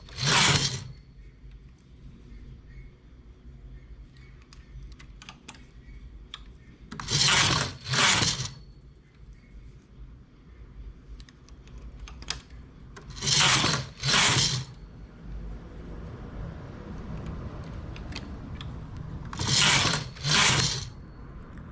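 A knitting machine works on a star-shaped baby sleeping bag, its carriage sweeping across in paired rasping passes that repeat roughly every six seconds, with quieter clicks and mechanical rattles between them.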